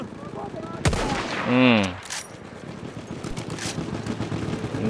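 Gunfire cracks in the video game Battlefield 1: a sharp shot, then rapid repeated firing continuing steadily in the background, with a brief murmur of speech.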